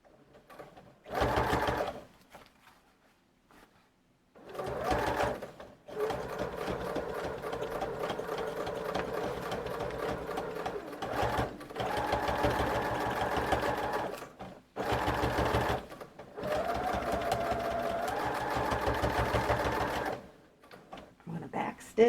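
A sewing machine stitches through the pages of a Christmas junk journal in a series of close, steady whirring bursts, some short and some several seconds long, separated by brief quiet pauses.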